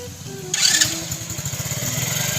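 A motorcycle engine idles and revs nearby with a steady pulsing putter, a brief higher whine rising over it partway through.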